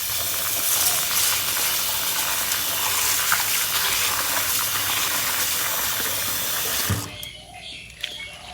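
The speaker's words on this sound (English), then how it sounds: "take the rice to wash twice time." Continuous splashing and swishing of water as rice is rinsed in a bowl, ending abruptly into quiet with a faint clink.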